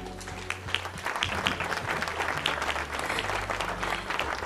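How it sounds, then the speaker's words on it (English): Loud, dense applause from a large audience giving a standing ovation at a live stage show, steady sustained clapping with faint crowd noise throughout. "they are clapping for you"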